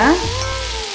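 Vegetables sizzle and fry steadily in a hot pan while cooking rice and lentil rice, with a brief clatter of stirring at the start, close and fairly loud.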